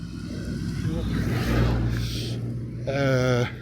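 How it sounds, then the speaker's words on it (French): An emergency vehicle rolls past on a road along the Via Francigena pilgrimage route, its engine rumble swelling and fading nearby, with a brief rising tone near the end and a voice speaking over it. "il y a un véhicule genre secours qui passe là"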